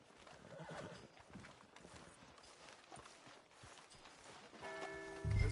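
In Red Dead Redemption 2, a horse whinnies amid soft clip-clopping hooves, faint and distant before a louder snort and neigh near the end.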